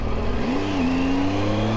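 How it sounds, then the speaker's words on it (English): A car engine hums steadily nearby, its pitch rising then holding as it moves past, with a continuous low road rumble and no talking. "I have a car behind me"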